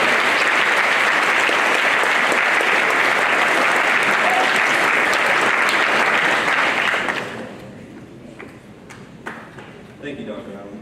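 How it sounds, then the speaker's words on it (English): A college audience at a Constitution Day program gives loud, dense applause to its social science chair. The clapping is sustained for several seconds, then drops away to quiet room noise with a few scattered claps. "Let's give Chris a round of applause."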